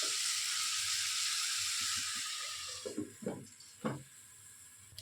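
Chicken keema with peas and potatoes sizzles under a lid in a pan with a constant frying hiss that fades, followed by a few soft knocks and clatters.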